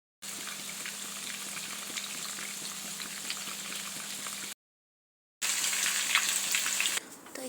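Chicken pieces fry in hot oil for a chilli chicken dish, a steady dense sizzle with crackling pops. It runs continuously, breaks off briefly into silence, then resumes slightly louder before fading near the end.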